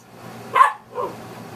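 Dogs in a kennel room give one sharp, close bark followed by a softer, shorter yip, with quiet room noise around them.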